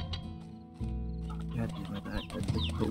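Chickens cluck in short bursts over a low steady background hum in the video game Slime Rancher, fairly close and moderately loud.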